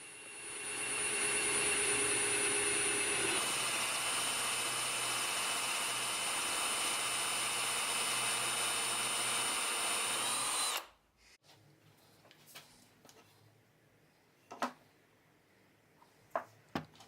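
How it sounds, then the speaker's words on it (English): A handheld power drill fitted with a 10mm bit bores dowel holes in wooden wine rack pieces, a steady loud whine holding for about ten seconds before cutting off, followed by quiet handling knocks. "I then just used a drill with a 10mm drill bit"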